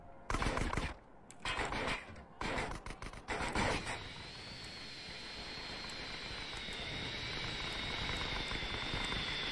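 Helicopter engine and rotor in GTA San Andreas on PC, a steady loud whine and rumble after several bursts of louder game noise in the first four seconds.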